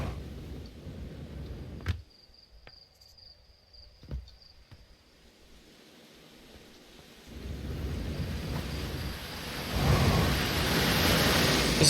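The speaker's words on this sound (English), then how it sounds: "This appears to just be a waterfall." A waterfall in the video game Outer Wilds: a steady rushing wash of water that starts faint, drops away, then swells louder and nearer after a few scattered clicks, continuing alone.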